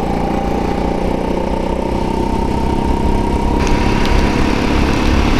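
Go-kart engine droning steadily and loudly on a racing track, a continuous buzzing whine close by with no gaps, a brief higher rasp rising near the end.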